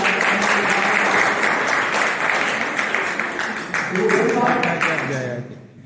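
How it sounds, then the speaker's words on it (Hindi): An audience applauds the principal at a gathering in Azamgarh, a loud, sustained wash of clapping mixed with voices that fades out at the end. "प्राचार्य जी के लिए स्पेशल तालियां बजाएंगे"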